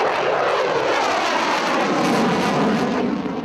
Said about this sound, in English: F-16s patrol the skies over Kirkuk, constantly taking off right over the bunker